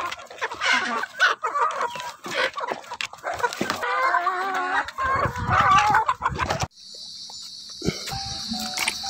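Several chickens cluck and squawk busily up close while being fed, overlapping calls, followed near the end by a steady high-pitched electronic tone.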